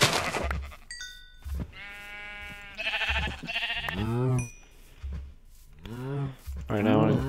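Minecraft sheep bleat several times in short, wavering cries amid the game's pops and clicks, fairly close and clear.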